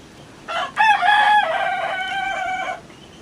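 A fighting-breed rooster crows once, loud and close, a long drawn-out cock-a-doodle-doo with harmonic overtones, then quiet background.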